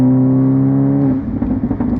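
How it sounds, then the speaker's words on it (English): A 2-litre turbocharged VW Golf GTI TCR engine accelerates hard from low revs, a loud steady tonal drone rising in pitch, then breaking into a rougher, busier roar as the revs climb. "Right from low RPMs, the engine pulls, the turbo spools up very quickly"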